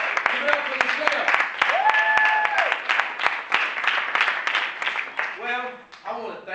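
An audience claps after a stage show, a scattered patter of individual hands that gradually thins, with voices and cheering whoops rising near the end.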